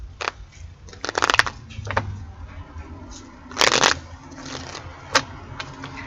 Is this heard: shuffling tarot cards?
yes